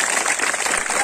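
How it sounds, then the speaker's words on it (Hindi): Children applauding together, a steady, dense wash of clapping that fills the whole moment at close range, with a voice faintly underneath. "तो बच्चों एक बार जोरदार ताली"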